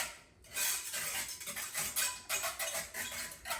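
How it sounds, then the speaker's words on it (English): Spoon stirring chocolate and coconut pudding together in a bowl, a close, continuous scraping and clinking with soft wet swishes, alone without talk. "I'm getting the chocolate and the coconut pudding mixed in real well together"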